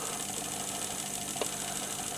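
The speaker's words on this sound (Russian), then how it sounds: "Вот запустил движок. Крутится." An automatic washing machine motor, run on a bench at low revs, hums and whirs steadily with a fine mechanical buzz and one brief click near the end, close and continuous.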